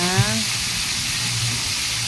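Milkfish (bangus) frying gently over low heat in a fair amount of oil in a pan, a soft continuous sizzle without popping, with a person talking over it.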